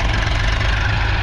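An Eicher tractor engine runs steadily in a muddy spot where tractors were getting stuck, a loud, continuous low rumble with a constant chugging throb, close by and alone with no talk.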